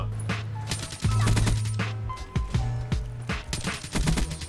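Rapid bursts of automatic gunfire in Call of Duty Black Ops 3 while the player jumps. Several loud volleys repeat in quick succession with sharp crack-like shots and no talking over them.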